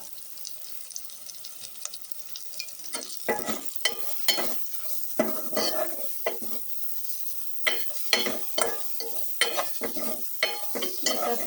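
Dry red and green chillies fry and get stirred in a pan: a soft sizzle under repeated scraping, clattering stirring strokes, fairly close and moderately quiet, with no talking.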